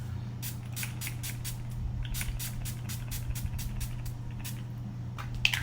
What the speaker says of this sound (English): I'm going to spray my face real quick.